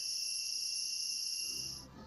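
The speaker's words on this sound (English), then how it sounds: "That's all the cicadas squawking away because of the heat and humidity" Cicadas drone in a hot, humid forest on Bohol in the Philippines, a loud steady high-pitched buzz that cuts off abruptly near the end, leaving quieter low background sound.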